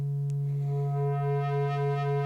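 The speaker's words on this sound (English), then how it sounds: "Can we get back to a sine wave?" A steady, sustained electronic tone from a Noise Engineering Loquelic Iteritas synth module holds at an even level from start to finish, heard alone with no voices.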